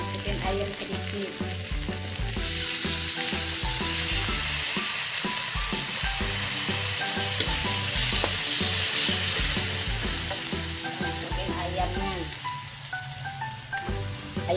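Chicken sautés in a pan for Minangkabau gulai ayam kurma, a loud, continuous sizzle with occasional stirring, heard under background music.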